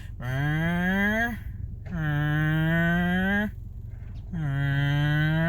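A voice imitates a manual-gearbox car engine revving, three rising drones each cut off and restarting lower, like gear shifts, loud and close.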